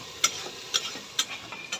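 Oil frying and foaming in a pan gives a soft, continuous hiss, with light crisp ticks or pops recurring about every half second.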